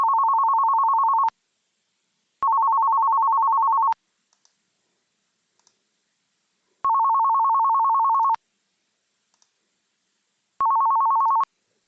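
An incoming call rings on a phone in an Amazon Connect call-centre setup: four steady electronic tone bursts, each about one and a half seconds long, separated by clean silent gaps, clear and close, with no talking.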